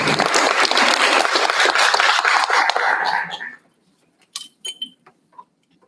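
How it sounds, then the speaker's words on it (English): An audience at a community board meeting applauds for John, steady dense clapping for about three seconds that fades out, leaving a few scattered faint clicks and rustles. "Another round of applause for John."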